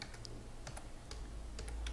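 Computer keyboard typing a URL, a quick run of soft, close key clicks spread irregularly over a couple of seconds in a quiet room.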